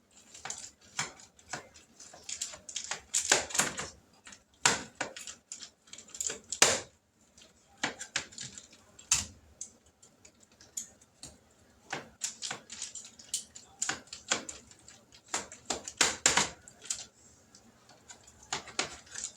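Meaty pork ribs being cut apart in a pan, a steady series of sharp close knife clacks and taps against the pan at an uneven, busy rhythm, with no talking.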